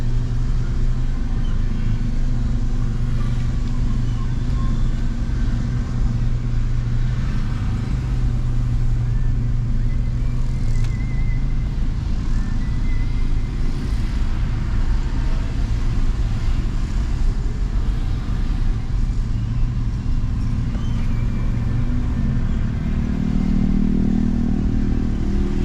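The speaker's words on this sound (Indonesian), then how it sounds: "Macet padahal baru jam 3 ya." Slow heavy traffic on Batu Aji road in Batam, Indonesia, heading toward the SP Batu Aji and Barelang area: a steady low rumble of idling and creeping cars and motorbikes, continuous and fairly close, with occasional light clatter.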